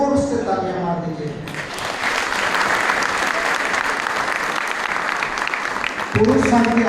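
An audience at a church men's day gathering honouring students claps loudly for several seconds in a dense, steady burst, with someone speaking over a microphone just before and after.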